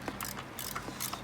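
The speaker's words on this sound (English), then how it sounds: "Now with a 12 millimeter, start to tighten it, right?" A ratchet fitted with a 12 mm socket tightens the balancer bolt on a Miata engine. Rapid close clicking comes in quick bursts over a steady background hum.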